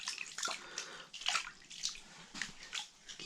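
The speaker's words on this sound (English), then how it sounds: "Got the live well so I can keep the fish under the water." Water sloshes and splashes in a boat's live well as a brook trout is handled while ice fishing on a shallow lake, faint irregular splashes and drips up close, with no talking.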